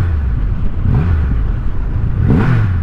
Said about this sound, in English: when I hit the gas while the clutch is in, I literally feel the bike twisting